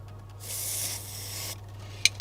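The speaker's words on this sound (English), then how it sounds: "we're just going to spray a bit of primer into this little cap" A steady hiss of an aerosol can spraying primer into a small cap for about a second, then quieter rustling and a couple of small clicks.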